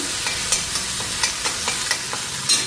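Spice paste fries in a pan for a vegetarian cauliflower and potato dish, giving a continuous bright sizzle punctuated by regular stirring scrapes, with no talking.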